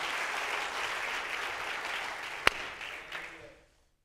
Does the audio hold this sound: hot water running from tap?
no